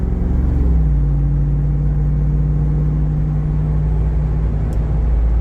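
A Jeep's engine heard from inside while driving, a loud, steady low rumble with a constant drone that shifts slightly in pitch early on, continuous and close with no speech.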